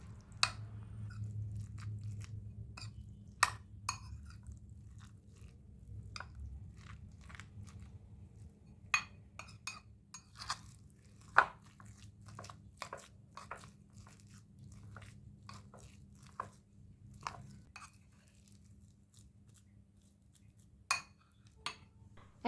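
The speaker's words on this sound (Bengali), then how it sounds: "এখন একটা চামচ দিয়ে ভালোভাবে ম্যাশ করে নিতে হবে।" A spoon mashes cooked rice together with a raw egg and salt in a bowl, giving soft scattered taps and clinks against the dish over a low steady background hum, fairly quiet and close.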